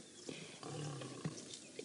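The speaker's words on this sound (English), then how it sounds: "yes, the baby lions are trying to roar" Lion cubs of a safari pride attempt small, strained roars at a distance, a few short rough calls over steady outdoor background with no talking.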